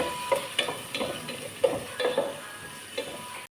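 Onion sautéing in a pan for ginisang monggo, a continuous close sizzle broken by repeated scraping and stirring clatters at an uneven pace.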